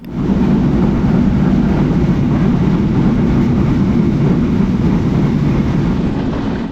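Banalata Express, a nonstop train on a dual gauge line between Rajshahi and Dhaka, roars along in a loud, steady rumble of wheels and carriages with constant broadband noise throughout.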